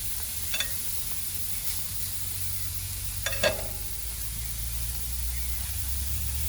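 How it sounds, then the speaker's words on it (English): Jerk shrimp and burgers sizzle on a grill with a soft, steady hiss, and a few faint clinks and scrapes rise above the frying. "All my shrimp are going on the grill right now, and my burgers going."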